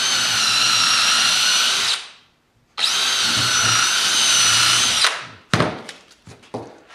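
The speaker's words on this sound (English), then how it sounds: "I'm gonna put 2 screws up in the front," Power drill driving two screws into an antelope horn panel mount, two long steady whirring runs near and loud, separated by a short pause, followed by a few sharp clattering knocks.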